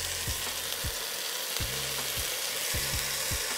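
Oxtail searing in avocado oil in a skillet gives a constant close sizzle, with several low knocks and clunks from the pan as the pieces are pressed and moved.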